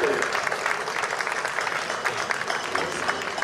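An audience applauds at a historical reenactment in Villena, a dense, steady wash of clapping from many people, fairly close and sustained throughout.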